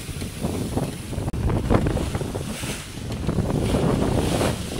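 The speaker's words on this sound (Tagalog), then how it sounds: "Ganito yung alon ng habakati." Sea waves wash and slap around a small boat out at sea, heavy with wind buffeting the microphone. The churning water stays loud and continuous throughout, with no voices.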